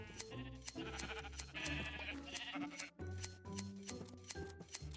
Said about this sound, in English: I've accepted the sheep shearing quest. Got my shears, let's go.